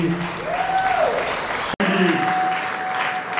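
An audience applauds to welcome a film producer onstage at a film premiere at a Congolese venue, with steady broadband clapping throughout, briefly cut off for an instant, and a voice talking over it.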